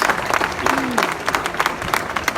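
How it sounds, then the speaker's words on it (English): Scattered clapping from a modest crowd, uneven and patchy, with murmuring voices underneath. "Listen to the smattering of applause."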